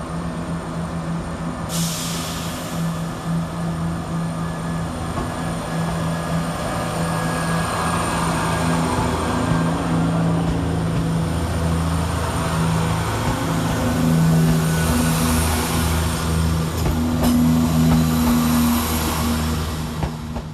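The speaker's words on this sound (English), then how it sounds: "First train out to depart is 168004, working the 1637 Chiltern Railway service to Birmingham Moor Street." Chiltern Railways Class 168 diesel unit 168004 pulls out of London Marylebone on the Birmingham Moor Street service, its engine a steady, loud, throbbing drone that holds for the whole stretch with no voices.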